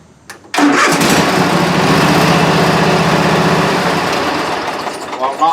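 A 46 inch zero turn mower engine cranks and catches abruptly, then runs at a loud steady roar close by before easing slightly, with a voice speaking briefly.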